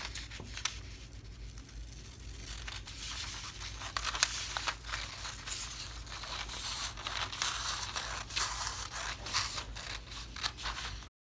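Scissors snipping and cutting through fabric for a 1940s-style sewing pattern, a continuous rustling run of close cuts with fabric crinkling, no talk.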